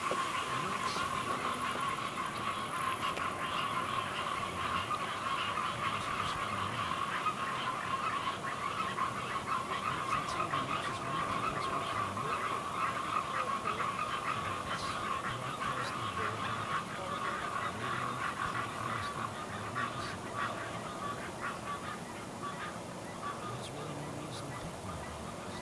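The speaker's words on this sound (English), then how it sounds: "listen to them frogs" A dense, unbroken chorus of frogs calls through the night at Paynes Prairie, Florida, just after rain. The steady trilling and croaking hold evenly loud for the whole stretch.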